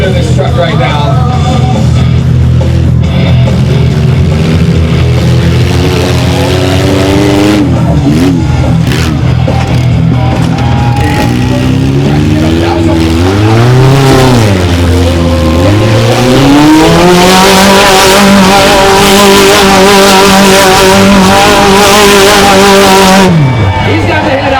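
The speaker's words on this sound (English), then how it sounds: "Goes fast, getting wild and crazy in these mini monsters" Mini monster trucks racing on a show track in Gaithersburg, Maryland, engines revving hard with rising and falling pitch, loud and close, with tire squeal and an announcer's voice over the crowd noise.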